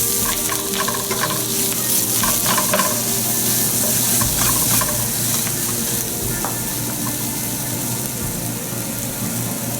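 Curry leaves sizzle loudly in a pot with fish sauce while a spicy lobster noodle soup is cooked, giving a steady, close frying hiss with faint stirring scrapes and no talk.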